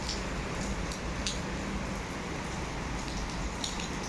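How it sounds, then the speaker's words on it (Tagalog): Rain pouring down in a desert region, heard from a doorway as a steady hiss of drops hitting surfaces, with a few sharper splashes standing out and no voices. "So, ngayon umuulan siya."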